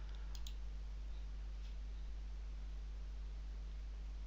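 A computer mouse button gives a few faint, quick clicks early on, then only a steady electrical hum and hiss remain.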